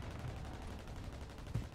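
Rifle fire in Warzone Resurgence on Fortune's Keep, a faint, quiet exchange of gunshots over a steady rumbling game bed, with one sharper report near the end.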